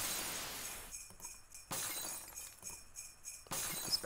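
Glass toys dropped from Santa's sleigh in a Christmas game shatter in two sharp bursts, each a bright crash followed by a tinkling spray of shards, standing alone with no talk.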